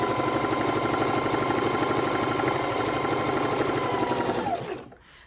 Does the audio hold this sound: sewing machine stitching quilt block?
yes